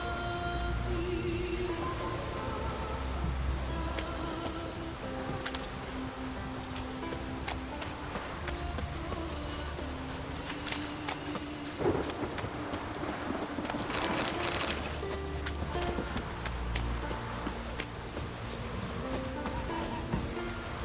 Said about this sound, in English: Take a soothsayer to know when it's raining.